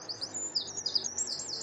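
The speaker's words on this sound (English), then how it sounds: "Listen to those birds." Small birds outdoors sing a rapid run of high, twittering chirps and warbles, fairly faint and continuous, with no voices over them.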